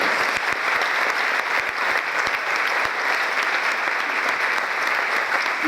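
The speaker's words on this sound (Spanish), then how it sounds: "demos un fuerte aplauso" Steady, loud applause from a church congregation fills the whole stretch, dense clapping with no voices breaking through.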